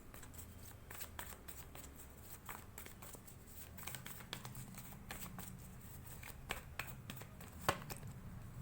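Tarot cards are shuffled and handled up close: soft, repeated riffling and flicking over a quiet room, with no one speaking.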